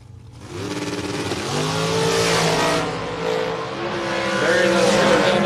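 A drag racing car's engine revs loudly and continuously at close range, its pitch climbing and holding with a sustained roar, on the asphalt side of a dragstrip during a fall drag racing event.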